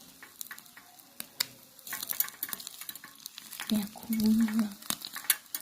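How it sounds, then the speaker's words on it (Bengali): An egg fries in a pan with a steady soft sizzle and crackle, joined by stirring and scraping, while a voice speaks briefly over it. "কত সুন্দর হচ্ছে ডিমটা পোড়া"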